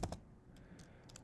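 Several quick keystrokes on a computer keyboard, a pair of sharp clicks up front followed by sparser light taps, close and clear over a quiet room.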